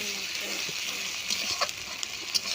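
Ginger paste sizzles in a hot pan for a Bengali shol fish kalia, a steady hiss running throughout with a few soft stirring scrapes and clicks near the end.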